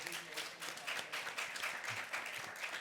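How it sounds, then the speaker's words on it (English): A conference audience applauds in a continuous, fairly faint and distant wash of many hands clapping, with no speech over it. "This is real applause, it's not staged."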